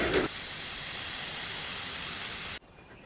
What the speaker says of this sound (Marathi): सायकल पंक्चर आहे, हवा सोडते